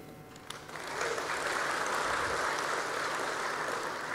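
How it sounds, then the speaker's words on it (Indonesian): Crowd applause swells after a quieter start and continues as steady, dense clapping from a large audience. "Ini yang harus kita tepuk tangani."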